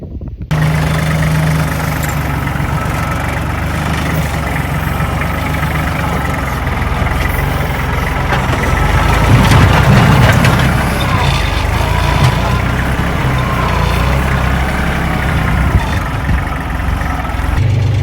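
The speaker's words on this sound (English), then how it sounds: "I'm gonna just dig a hole here as best I can with the tractor" Tractor engine working while digging a hole in hard ground, a steady loud diesel rumble with a rise in effort near the middle and no talk.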